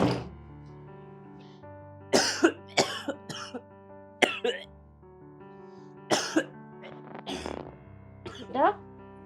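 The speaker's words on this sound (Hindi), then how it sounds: "तू इतना खांस क्यों रहा है?" Repeated harsh coughing after gulping cold water, several sharp bursts and short fits spread across the stretch, close and loud over a steady tonal background.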